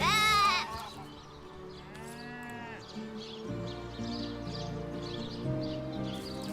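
A sheep bleats a couple of times at the start in Divinity: Original Sin Enhanced Edition over a soft game soundtrack, with light clip-clop and ambient tones continuing afterward.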